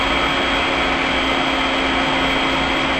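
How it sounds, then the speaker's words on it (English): A small electric grinder pulverizing granulated sugar into powdered sugar in a home kitchen, giving a loud, steady, high-pitched motor whine with constant grinding texture throughout and no voices. "Let's grind up some sugar."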